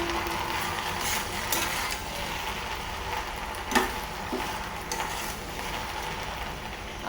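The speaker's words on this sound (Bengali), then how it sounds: "ঢেঁড়স ভাজি করে নিতেছি।" Okra frying in a pan, a steady broadband sizzle with occasional stirring clatter and a brief louder scrape midway, close and continuous with no talking.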